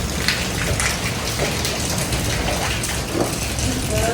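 Steady rain falls outdoors in India, a continuous hiss with scattered drops and patters nearby, with faint background sounds and no clear talk.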